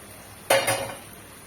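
A spoon scrapes and clanks in a pan while stirring fried jackfruit and potatoes with spices, one sharp metallic knock followed by a shorter scrape, faint sizzle underneath.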